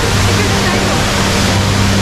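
Indoor waterfall at Jewel in Singapore, a steady broadband rush of falling water filling the space at close range, continuous and loud, with a low hum underneath and voices mixed into the wash.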